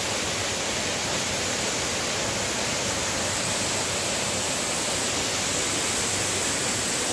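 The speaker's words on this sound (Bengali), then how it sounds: "জলটা বয়ে রয়েছে, হুড় করে ওপর থেকে জল পড়ছে" Water crashes down a waterfall near Mussoorie in the Himalayan hills, a loud, unbroken, even roar with no pauses or voices.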